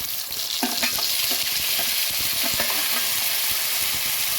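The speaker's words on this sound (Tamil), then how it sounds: "இது நல்லா வதங்கட்டும்" Pirandai (adamant creeper) sautéing in a pan for thovaiyal, with a steady close sizzle and repeated spoon scrapes and clinks as it is stirred, no voices.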